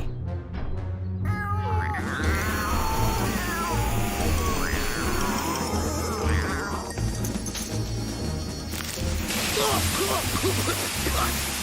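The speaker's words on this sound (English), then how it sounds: "Cats don't like water, right?" Cartoon cats in the Rescue Bots series meow and caterwaul repeatedly in drawn-out, wavering yowls, layered over a static-like hiss and background score, loud and close throughout.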